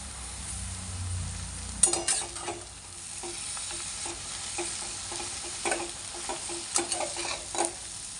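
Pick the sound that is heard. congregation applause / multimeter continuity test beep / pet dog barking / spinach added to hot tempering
spinach added to hot tempering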